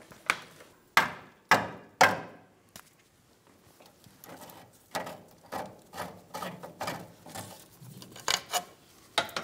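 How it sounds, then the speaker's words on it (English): Sharp metallic hammer blows strike the fuel tank strap pin of a 2005-2015 Toyota Tacoma 2.7L L4 under the truck, three loud hits followed by a run of quicker, lighter taps and scraping. "After moving the tank strap around and hitting the pin a few times either way, we're able to remove the pin and the tank strap."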